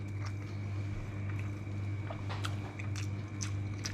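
Close, crisp crunching of fried leafy greens eaten with shrimp paste sambal, a run of irregular bites and chews loud against a steady low hum, with no talk.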